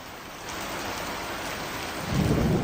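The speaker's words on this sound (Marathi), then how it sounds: "वादळी वाऱ्यासह अवकाळी पावसानं हजेरी लावली" Unseasonal rain and a thunderstorm with strong winds hit Gondia district in Maharashtra during a heatwave. Steady, dense rain hiss fills the air, and a deeper rumble swells toward the end, with no voices.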